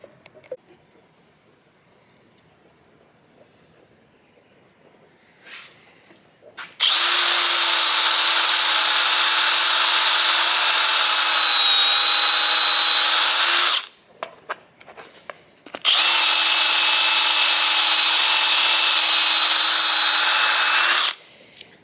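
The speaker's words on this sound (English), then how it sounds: "find yourself a drill bit that size, and drill a hole right there." Power drill boring a hole in a metal part for a Jaguar E-Type S1 oil head fitting: two long, loud, steady high-pitched whining runs of about seven seconds each, separated by a short pause with faint handling noises.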